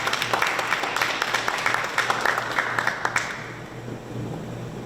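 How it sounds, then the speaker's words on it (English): An audience claps for a man being introduced at an evening business-community event, a dense burst of hand claps under a steady low hum that tapers off after about three seconds. "Let's clap it up."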